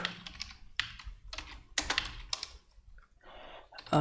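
Computer keyboard typing while writing ReactJS code, close bursts of quick key clatter broken by short pauses, with no voice over it.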